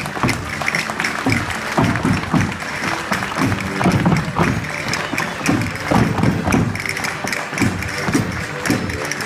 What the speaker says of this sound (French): Allez, on peut applaudir bien fort.